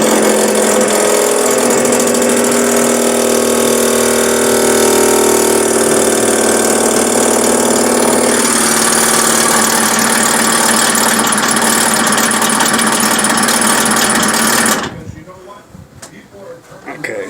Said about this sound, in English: I jump it and the compressor kicks on.